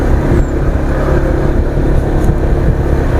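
A close, loud motor drone fills the whole moment, a motorbike engine rumbling steadily as it goes by.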